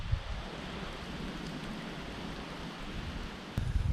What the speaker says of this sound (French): il repleut, une grosse averse